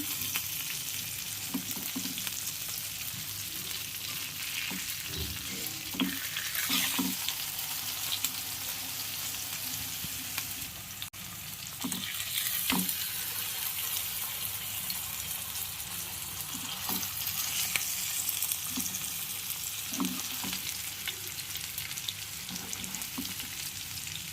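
Fish fillets frying in hot oil in a pan, a steady close sizzle running throughout with occasional soft clinks and scrapes as the pieces are turned.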